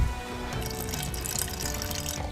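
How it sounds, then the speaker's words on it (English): Water rinses through the tap of a mini keg, giving a steady splashing, gurgling flow that carries on without a break for a couple of seconds at close range. "we need to rinse it through the tap"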